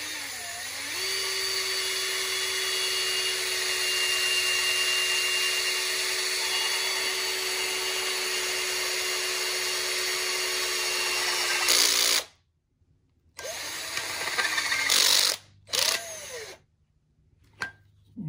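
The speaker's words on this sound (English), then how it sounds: "I'll start drilling." A power drill bores into a Toyota RAV4 electric power steering unit, whining steadily and close for about twelve seconds before stopping, followed by a few short bursts of drilling separated by silence.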